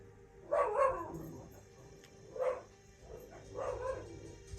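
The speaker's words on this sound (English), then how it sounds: "someone's at the door, so I ask you to forgive my pups. They're barking their heads off." Pet dogs barking at someone at the door of a home, three separate bursts of loud, close barks spaced a second or two apart, with quiet room tone between.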